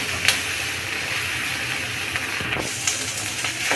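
Whole coriander seeds and spices fry in a pan over a medium flame, giving a steady bright sizzling hiss with faint crackles and pops throughout.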